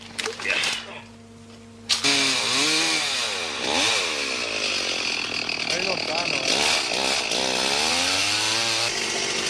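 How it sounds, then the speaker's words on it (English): A chainsaw engine revs up and down over and over, loud and close, after a short quieter start, while clearing a jungle track in the Sulawesi mountains. "If it's not the buzz of chainsaws, it's the thud of hand axes which reverberates around the still mountains."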